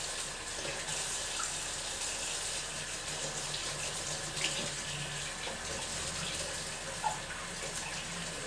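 Water from a kitchen tap runs steadily into a sink while a dish is rinsed off, a continuous hiss with occasional splashes and a small clatter.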